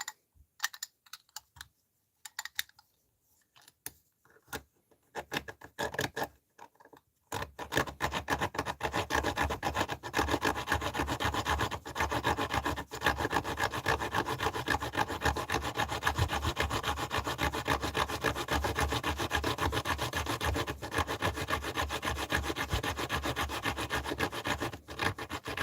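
A diamond wire saw rasps steadily through a metal padlock, beginning with a few sparse, scratchy strokes and then settling into a continuous, close, even grinding rasp that runs to the end.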